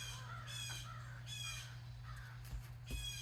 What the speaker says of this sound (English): Please enjoy the appropriately spooky crow sounds as I have a crow in the backyard.